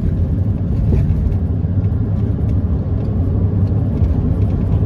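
A car engine runs with a steady, close, loud low rumble and a whirring drone that holds an even level throughout, with no clear rise or fall in pitch.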